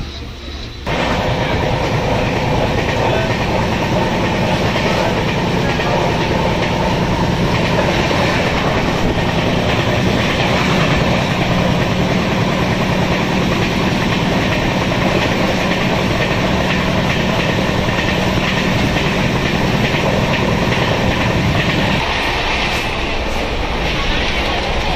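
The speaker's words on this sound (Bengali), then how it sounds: "ট্রেন চলছে" The Tamralipta Express, Howrah to Digha, rumbles along with a continuous loud rail roar and rhythmic clickety-clack of wheels over joints, heard from inside the carriage throughout.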